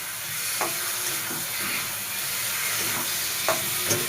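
Egg frying with potatoes in a pan, a soft steady sizzle and hiss with occasional stirring scrapes, close and quiet.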